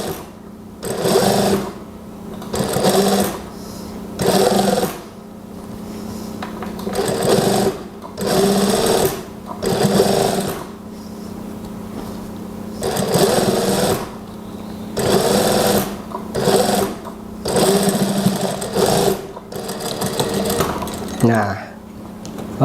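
A tailor's sewing machine stitches a standard trouser waistband in repeated bursts of fast, rattling mechanical whirring, each run lasting a second or two and separated by short pauses, with a steady low motor hum beneath.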